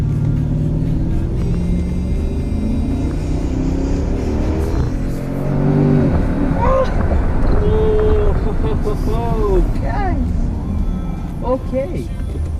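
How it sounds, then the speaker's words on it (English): A 2010 Mercedes-Benz ML63 AMG's engine is heard from inside with the windows open, a loud steady rumble that swells as it accelerates, with wind and road noise. "Now let's get a feel for the sound of the Ml63 Amg."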